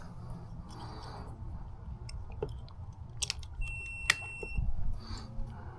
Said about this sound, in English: A little beep means that it just turned on, or it's recognizing the power.